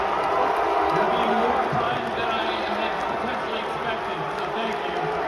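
A crowd of wrestling fans lingering after an AEW show keeps up a steady, dense roar of voices that sounds like chanting directed at Tony Khan, loud and continuous throughout without a break.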